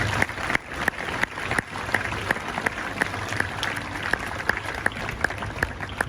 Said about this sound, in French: Donc eux aussi on peut les applaudir.